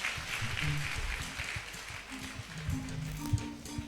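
A church congregation applauds with a soft, steady wash of clapping while a voice and a sustained musical tone continue underneath.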